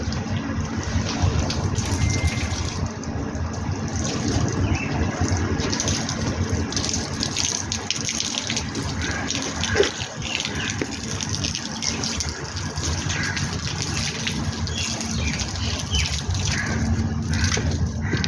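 Water gushes steadily from a hose or tap while plants are watered, a continuous broadband rush holding even for the whole stretch with no pauses and no talk over it.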